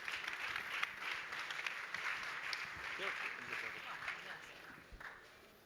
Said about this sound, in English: A big applause for the panelists too.